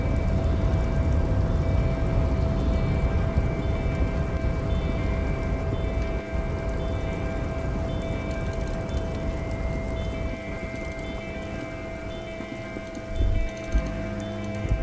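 Steady rain pours down in the rainy harbour-town setting of the video game Disco Elysium, a dense, continuous hiss of falling water with a faint low rumble beneath, holding fairly even throughout with no talk.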